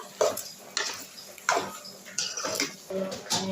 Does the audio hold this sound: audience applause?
no